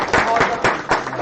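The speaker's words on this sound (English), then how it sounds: "let's give a round of applause to Costa and his staff" An audience at a church Lenten lecture applauds in a short, dense burst of clapping, close and fairly loud, with a voice speaking over it.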